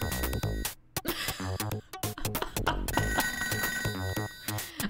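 A telephone rings in the video game ToeJam & Earl, its repeated bright tones layered over loud, busy game music with steady rhythmic bursts.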